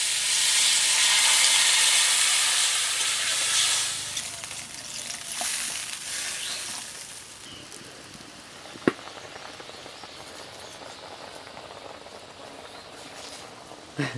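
Water poured into a sizzling fish curry raises a loud rushing hiss that fades after a few seconds into quieter simmering, with a sharp clink near the middle and another at the end.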